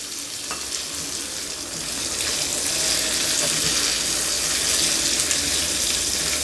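Shallots and green chillies sautéing in oil for an idli chutney, a dense hissing sizzle that swells louder after the first two seconds and holds steady, with no voices.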